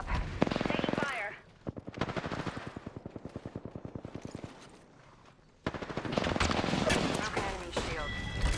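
Rapid automatic gunfire crackles in a PlayStation shooter game, one dense burst up front, then a rattling stretch, a short lull and another loud sustained volley.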